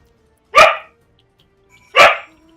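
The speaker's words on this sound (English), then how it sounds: "She likes to bark." Two sharp barks from a small brown dog, spaced about a second and a half apart, close and loud against a quiet room.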